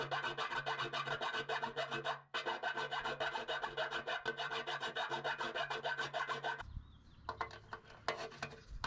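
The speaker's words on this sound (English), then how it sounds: "Guy files two notches." A hand file rasps rapid, rhythmic strokes into a steel bumper to cut two notches, a steady scraping run with a brief break, then slower, sparser strokes at the end.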